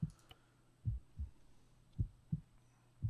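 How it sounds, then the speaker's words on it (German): A heartbeat effect in the video game ArmA 3 thumps in low, soft double pulses, four beats in a slow steady rhythm, alone and fairly quiet. "Ich höre mein Herz pochen"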